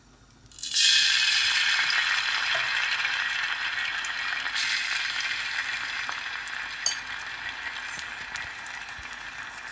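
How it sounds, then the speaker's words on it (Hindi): Garlic ginger paste hits hot oil in a frying pan with a sudden loud sizzle that settles into a steady, close crackling fry, with no talk. "लहसुन अदरक का पेस्ट हमने डाल दिया है इसमें। हल्का से इसको फ्राई करेंगे।"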